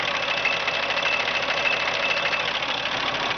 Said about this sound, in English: This engine sits here and purrs.